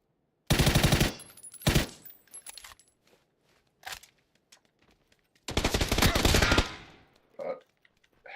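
Gunfire in PUBG played on Xbox: a loud opening burst of rapid shots, a second burst shortly after, then scattered single reports and another long sustained volley near the end, close and sharp.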